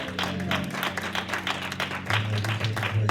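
Church congregation clapping together, dense steady applause with music or organ tones sustained underneath.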